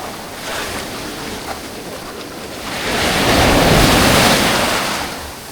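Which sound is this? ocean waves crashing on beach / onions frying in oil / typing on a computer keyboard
ocean waves crashing on beach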